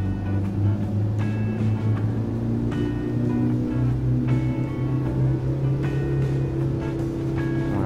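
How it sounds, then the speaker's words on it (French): A diesel car engine being revved hard up to 4000 rpm while driving, a steady loud droning hum with strong low harmonics and road rumble, sustained with no talking. "je vais réaccélérer à fond jusqu'à 4000 tours"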